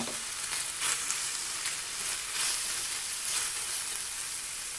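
Shrimp frying in a pan for a dumpling filling give a steady, bright hiss of sizzling oil with gentle pulses of stirring. The sound is close and continuous, with no talking.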